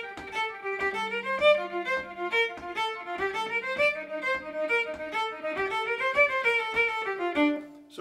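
Solo fiddle plays the B section of the tune Catharsis, phrasing threes over a 4/4 feel in quick, bouncing bowed notes with a low sustained drone partway, close and clear with no talk.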